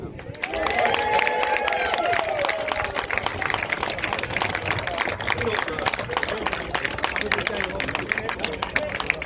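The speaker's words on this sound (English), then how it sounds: "he needs a bigger clap than that" Sustained applause from a town crowd for a local speaker, steady dense clapping mixed with some crowd murmur, fairly loud and continuous throughout.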